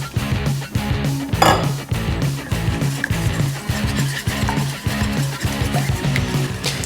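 A whisk or spoon mixes eggs into melted butter and chocolate in a bowl, steady rhythmic scraping and clinking against the bowl, close and continuous.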